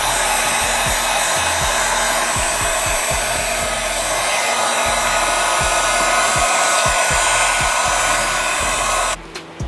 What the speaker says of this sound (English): heat gun the 3M on